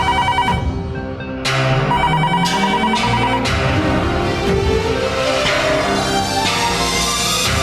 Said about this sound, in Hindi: हरमन जी तो मेरा फोन ही नहीं उठा रहे